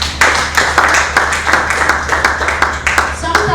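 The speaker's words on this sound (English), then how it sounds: "Can we clap for them?" Audience clapping at a launch event, loud and close, with a roughly rhythmic pulse of hands beating together in rough unison over a steady low hum.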